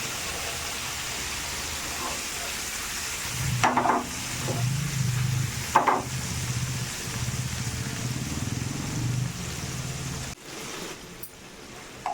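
Fish pieces shallow-frying in a little oil in a pan, with a steady background sizzle, a couple of louder scraping turns and a low rumbling hum, heard up close with no talking.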